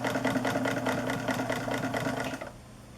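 A manual mechanical sewing machine runs a standard straight stitch with a steady, fast rhythmic whir and clatter, close and loud, then stops abruptly near the end.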